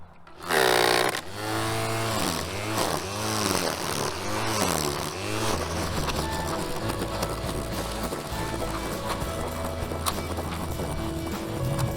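A Ryobi ONE+ 18-volt cordless string trimmer/edger mows a small lawn, its motor whine rising and falling in repeated surges before settling into a steadier drone, close and fairly loud.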